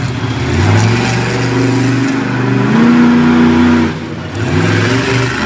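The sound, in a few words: drag racing car engine revving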